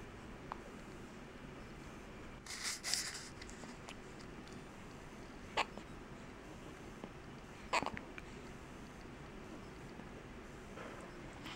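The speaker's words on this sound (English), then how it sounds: "Do you have the hiccups again?" A baby hiccups in short, sharp bursts, a few scattered hiccups spread out against quiet room background, moderately close with no talking.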